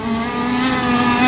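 Gas-powered 1/6 scale R/C unlimited race boat engine droning steadily as the boat circles a right turn before a heat, a continuous loud buzzing whine with no pauses.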